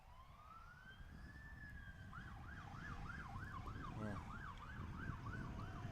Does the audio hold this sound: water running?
no